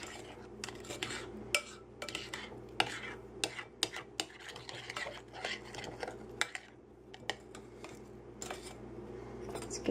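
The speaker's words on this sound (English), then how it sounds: "Let's get some of this creamed butter and sugar that's hiding on the spoon down in there." Sharp metallic scrapes and clinks of a spoon against a mixing bowl while creamed butter and sugar are scraped off, irregular taps close up and fairly quiet, with no talk.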